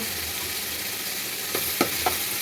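Onion, garlic and garam masala frying in a pan give a constant close sizzle, with three soft stirring knocks toward the end and no talking.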